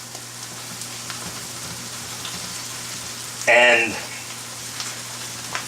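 A spatula stirs cauliflower hash in a hot pan, a steady soft sizzle running throughout with one brief louder scrape-and-stir burst midway; a single spoken word occurs.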